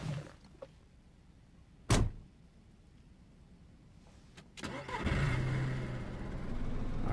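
A car door thunks shut in DayZ, then the vehicle's engine cranks and catches, settling into a steady running rumble that continues to the end.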